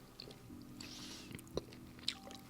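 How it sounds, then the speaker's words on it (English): Someone chews a very tough, rubbery gummy candy, making soft, close squishing and muffled mouth sounds with a couple of sharper clicks, faint overall. "It's like chewing on a eraser."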